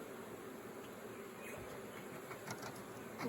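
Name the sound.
honey bees buzzing at beehive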